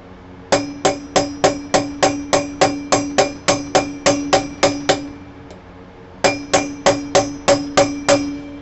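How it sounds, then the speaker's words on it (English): A hammer strikes a metal Harley wheel bearing in a fast, even series of ringing blows, a long run, a short pause, then another run of hits. "Metal on metal will bounce. It'll bounce the hammer back."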